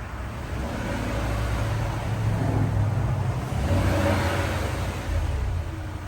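A 2006 Land Rover Range Rover engine running near idle, a steady low rumble with slight unsteady swells in its note, close and continuous with no talking.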